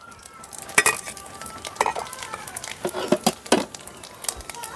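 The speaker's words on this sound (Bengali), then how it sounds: "পাঁচফোড়নটা একটু ভাজা ভাজা করে নিলাম।" Panch phoron spices fry in hot oil with a soft crackling sizzle, broken by sharp scraping and clinking as a utensil stirs the pan in quick, uneven strokes.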